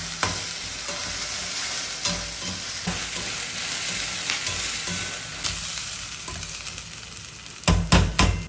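Tomatoes sizzle and fry steadily in a hot pan for a spicy Tamil crab curry, with periodic scraping stirs and a burst of louder clattering near the end.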